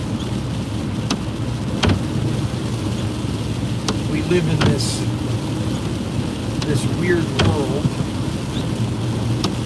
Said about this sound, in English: I hate driving in the rain, and it's raining.